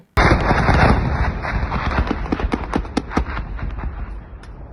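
A shot-down missile falls and explodes over Lutsk, Ukraine: a loud blast opens, followed by a rapid series of sharp cracks and pops that continue over a sustained roar.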